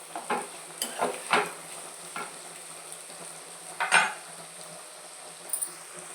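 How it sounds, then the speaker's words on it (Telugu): Onions and green chillies frying in a pan after dried prawns, a soft low sizzle punctuated by several distinct scraping stir strokes and metal clinks of a spoon against the pan. "ఇప్పుడు ఉల్లిపాయలు పచ్చిమిరపకాయలు వేసేసుకోవాలి."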